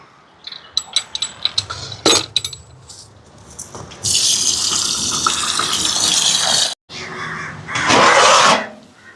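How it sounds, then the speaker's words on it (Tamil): Rice being washed with water for a Sivaratri almsgiving lunch, with scattered clinks and rattles of grains and vessel followed by bursts of gushing, pouring water, fairly close and loud. "இப்போ அரிசியை வந்து கழுவி எடுக்க போகிறேன்"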